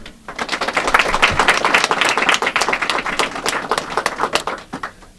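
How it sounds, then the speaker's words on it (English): Warm audience applause at a Westchester County budget signing event, a dense steady patter of many hands clapping that swells quickly and tapers off near the end. "we give you great thanks and applause."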